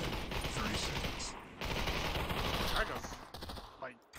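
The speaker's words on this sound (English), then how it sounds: "Gunshots." Rapid gunfire in the VR shooter Population: One, bursts of dense automatic shots filling most of the clip, loud and close, with brief gaps and a short pause near the end.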